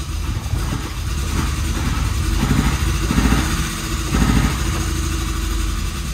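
A Suzuki Samurai engine running after a rocker-arm adjustment, a loud, steady low rumble with a pulsing idle rhythm, heard close and alone.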